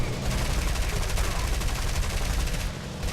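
Dense, rapid gunfire from the War Thunder combat game, a continuous loud rattle of automatic weapons filling the whole stretch with only a brief dip near the end.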